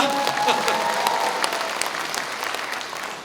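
Applause from an audience at a Democratic Party book-launch event in Wonju, Gangwon Province, in support of politician Woo Sang-ho: a steady patter of many hands clapping, moderately distant, fading slightly toward the end.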